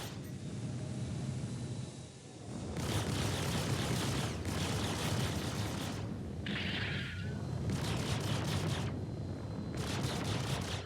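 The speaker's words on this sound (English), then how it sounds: "Sulin crashed into the ground. Lovely little purple explosion there." Video game explosion as a craft crashes into the ground and bursts in purple, heard as repeated heavy rumbling booms and crackling blasts in a steady, dense barrage.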